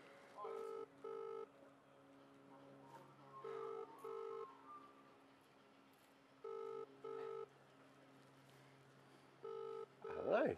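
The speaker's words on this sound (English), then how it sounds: "All right, I'm going to put him on speaker. How's this? It's ringing." Phone ringing through a speakerphone, paired electronic ring tones repeating in regular double bursts with pauses between, fairly quiet, with brief talk near the end.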